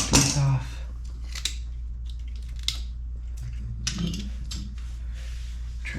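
Cutters snip parts off during assembly of a Crown Victoria front axle for a 1964 Ford F100, giving a few sharp clicks and snaps over a low steady hum, with faint speech.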